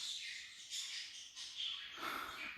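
Small birds chirp and squawk faintly in short, scattered bursts of high-pitched calls, with no voices.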